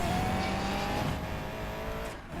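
A car engine in the Need for Speed racing game, loud and close, sustained in a continuous high-revving roar that holds steady and then eases slightly near the end, with no voices.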